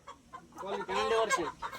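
A brief burst of chickens clucking close by, a short noisy flurry of hen calls lasting under two seconds.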